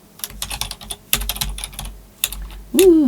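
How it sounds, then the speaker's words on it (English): Fingers typing in irregular bursts on a computer keyboard, crisp close clicks with pauses between runs, then a short voiced sound at the end. "been trying to type and think at the same time"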